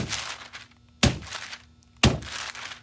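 Dried, built-up material being knocked out onto paper during a large cutout job: three sharp, hollow thunks about a second apart, each followed by a short scattering rattle, close and fairly loud.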